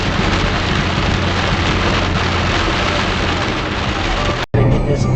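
Steady, dense hiss of heavy rain drumming on a car body, continuous and loud, cut off abruptly near the end before resuming.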